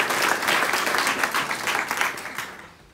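Applause from a workplace crowd for a hospital physiotherapy team, a dense, steady wash of many hands clapping at close range that slowly thins toward the end.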